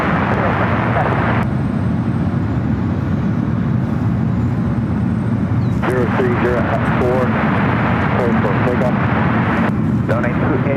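Korean Air Boeing 777-300ER airliner at San Francisco airport, a loud continuous broadband engine roar sustained throughout, with faint voices over it.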